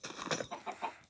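Chickens on an automatic chicken farm in a video game give a few quick, close clucks in a short choppy burst, with no other sounds around them.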